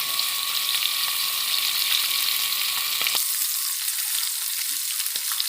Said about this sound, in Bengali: মাছটাকে এখন তেলে ভাজা হবে কিছুক্ষণ।